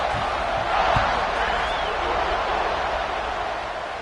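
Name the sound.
video game stadium crowd noise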